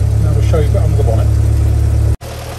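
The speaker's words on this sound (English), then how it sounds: "There's this Hurricane engine, burbling away nicely, Willys flathead engine." A 1952 Willys M38A1 Jeep's Hurricane flathead engine idles with a steady, loud, close low burble, cutting out abruptly near the end before a quieter continuation, with a voice talking over part of it.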